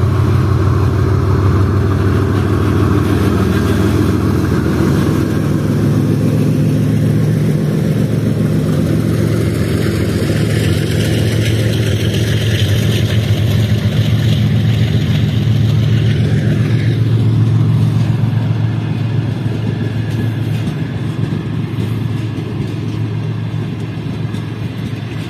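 Diesel locomotive GU409012 hauling the Karakoram Express in Pakistan, a deep continuous engine rumble and droning hum holding steady at close range for the whole stretch, with no horn or voices over it.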